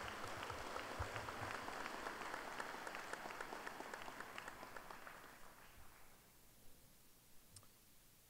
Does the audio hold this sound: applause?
yes